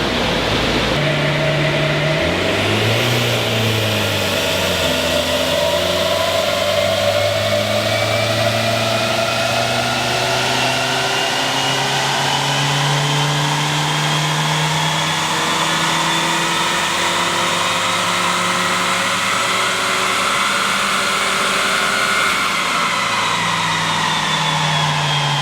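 A Nissan Juke fitted with a cold air intake revs hard on a dyno, its engine note climbing steadily through a long, loud pull before easing off, with continuous mechanical whine and no talking.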